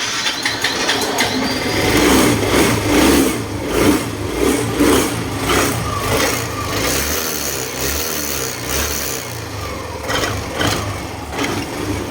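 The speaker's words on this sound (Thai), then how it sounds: "ใส่ปลอกของเทียนเข้าไปแล้วก็ลอง สตาร์ทดูนะครับ ว่ามันจะติดหรือไม่" A Yamaha Grand Filano scooter engine with a starting problem sputters and runs at a steady idle with uneven revving throughout, close by and fairly loud, no voices.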